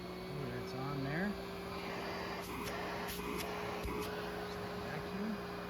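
A FruSun dog grooming kit vacuum runs with a steady, constant motor whine and airflow hum throughout, faint and even, with brief clicks and a voice talking quietly over it.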